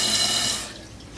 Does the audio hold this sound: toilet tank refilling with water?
yes